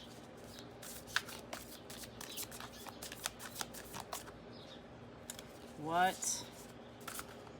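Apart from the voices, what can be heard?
shuffling cards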